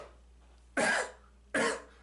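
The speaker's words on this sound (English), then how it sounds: "got a little bit of cough there" Two close, forceful coughs ring out about three quarters of a second apart, each a harsh burst that fades quickly, with near silence before and between them.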